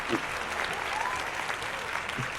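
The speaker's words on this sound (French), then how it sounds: "Est-ce que ça mérite des applaudissements?" A small group of tabletop role-playing players applauds, a steady close patter of clapping lasting the whole moment with faint voices mixed in.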